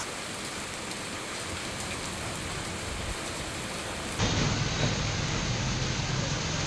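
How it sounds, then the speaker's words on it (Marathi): Heavy, continuous rain pours onto a waterlogged stretch of the LBS road in Bhandup, Mumbai, a dense steady wash of noise that grows louder and fuller partway through, with no voices. "मुंबई पूर्व उपनगरमध्ये पावसाची संततधार ही कायम आहे"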